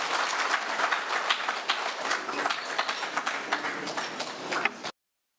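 An audience at a prisons and correctional service conference on parole applauds a minister heading to the podium, many hands clapping in a busy, crackling patter that holds steady, then stops abruptly.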